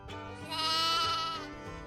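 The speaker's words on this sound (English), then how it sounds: "Goats are excellent climbers." A goat on a farm lets out one drawn-out, wavering bleat, close and clear, with no talking.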